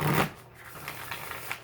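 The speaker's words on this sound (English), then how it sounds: "I love the way this deck shuffles." A deck of oracle reading cards gets shuffled by hand, a short papery riffle that starts loud and close, then trails into softer rustling.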